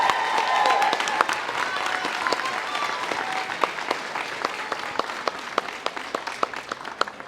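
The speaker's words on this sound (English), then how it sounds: "so round of applause for the club and for having a second team" Applause at a junior football club final, with a crowd clapping steadily for the club's second team, many close hand claps that begin strong and gradually thin out.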